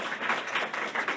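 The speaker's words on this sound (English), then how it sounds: "Round of applause for nominees." Brief round of applause for nominees at a Pi Theta meeting, a small group clapping steadily for about a second, fairly faint and roomy.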